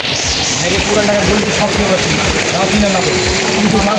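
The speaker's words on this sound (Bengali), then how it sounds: "আজকে মারাত্মক বৃষ্টি" Heavy rain pours onto a flooded main street in Puran Dhaka, a dense loud hiss of drops hitting water and surfaces throughout, with faint background voices.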